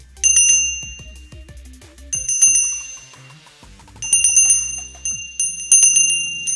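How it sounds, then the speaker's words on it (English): A simple hand bell rung over a black mirror, giving four bright clusters of repeated metallic dings with long shimmering rings between strikes, close and clear against a quiet room. "If you don't have a singing bowl, what I use sometimes is just a simple bell."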